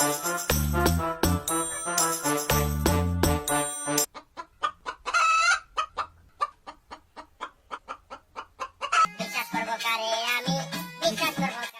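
Hens clucking in short repeated bursts, fairly close, mixed with some music at the start and end; no speech stands out.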